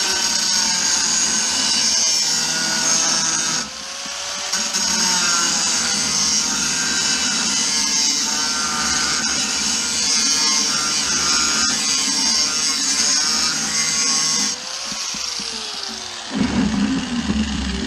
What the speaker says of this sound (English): I'm gonna show you how not to use a grinder